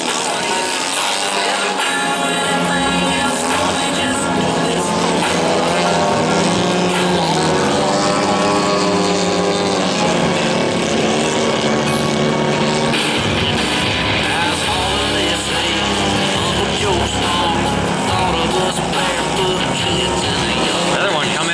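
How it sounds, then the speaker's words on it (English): A small propeller airplane comes in for a smooth landing on a runway at an airfield fly-in event, its steady engine drone loud and close throughout, with faint voices in the background. "Another one coming in for a nice smooth landing."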